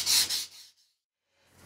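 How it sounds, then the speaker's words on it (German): Sandpaper of 120 grit rubbing a plaster edge in a few short scratchy strokes, loud and close, followed by a pause of near silence before it starts faintly again. "wenn man sich jetzt einfach so ein bisschen 120er Schleifpapier nimmt, dann kann man das super wegmachen"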